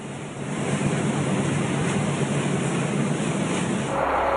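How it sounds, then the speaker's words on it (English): Floodwaters surge over a fire truck windshield during dangerous Colorado flooding, heard from inside the cab as a loud, continuous rushing roar that builds within the first half second and holds steady. "from inside this fire truck, the floodwaters bubbling over the windshield"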